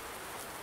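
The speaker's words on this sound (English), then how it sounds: "this rain just isn't letting up at all" Rain falling in the farming video game Farming Simulator 19, a brief, faint, steady hiss of downpour with no other sounds.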